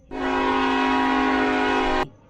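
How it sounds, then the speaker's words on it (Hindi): A loud, steady train horn blares for about two seconds close by, starting and stopping abruptly. "उसके बाद रेल आ गई"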